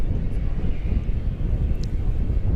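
A passenger airliner lands at DFW Airport at night, its engine roar a steady, loud rumble close by, with wind buffeting and faint voices in the background.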